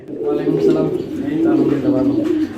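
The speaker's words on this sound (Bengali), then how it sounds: "আমরা এই মুহূর্তে দাঁড়িয়ে আছি একটি বিশাল বোম্বাই কবুতর খামারের সামনে" Bombay pigeons at a large pigeon farm, a steady layered cooing from several birds close by, continuous throughout with a low murmuring quality.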